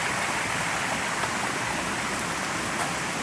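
A stream at the Riacho do Lagedo waterfall in the rural hills of Doutor Severiano rushes in a loud, steady broadband wash that continues throughout without a break.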